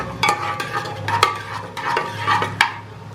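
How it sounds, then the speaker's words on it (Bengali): Vegetables get stirred with spices in a pan, producing repeated scraping and clinking of a spatula against metal in an irregular rhythm over a soft sizzle, close and fairly quiet. "এটাকে ভালো করে নাড়াচাড়া করে নিতে হবে আস্তে দিয়ে যাতে মশলাটা ভালো করে সবজির সাথে গায়ে লেগে যায়"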